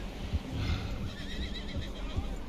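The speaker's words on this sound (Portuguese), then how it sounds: "Aí vamos amarrar o cavalo aqui." A horse whinnies and snorts as it is hitched to a post in an Old West setting, its neigh rising mid-range over a low rumble of ambient noise and faint hoof movement.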